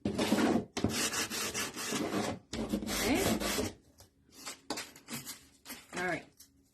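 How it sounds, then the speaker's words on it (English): Hand sanding of a wooden DIY chaos controller enclosure, a close, dry rasping rub in several bursts separated by short pauses, with a brief spoken word near the end. "just sand it off so it's nice and smooth"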